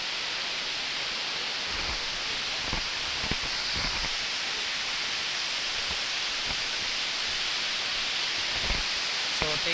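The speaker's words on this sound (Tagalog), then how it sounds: "nakaka-relax yung mga lagaslas ng tubig" Water rushes in a constant broadband roar at Daranak or Batlag Falls in Tanay, Rizal, steady and close, with faint occasional knocks and rustles and no talking.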